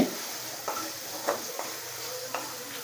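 Spoon stirring Kashmiri chilli powder with spices in a frying pan, a soft steady sizzle with a few light scraping strokes, close and quiet, no voices.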